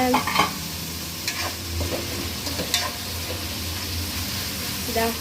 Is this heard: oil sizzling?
yes